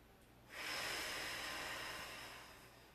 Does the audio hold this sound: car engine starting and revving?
no